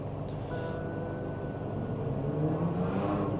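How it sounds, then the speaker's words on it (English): A BMW E39 wagon with a six-cylinder petrol engine goes by as a low, faint, continuous engine hum and rumble that swells slightly toward the end, with no talk. "E39 wagon, 6-cylinder, based on the noise, 6-cylinder petrol"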